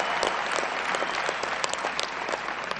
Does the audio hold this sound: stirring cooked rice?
no